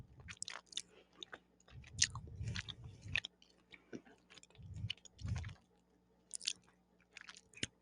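Hi-Chew candy chewed near a microphone, a run of soft, wet mouth clicks and smacking bursts with pauses between, close and quiet, no talking.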